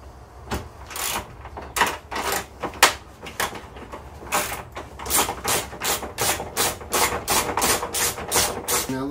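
Screws being backed out of the front wing of a Mk4 VW Golf GTI with a T30 driver, a steady run of sharp ratcheting clicks and mechanical rattles close by, with no talk.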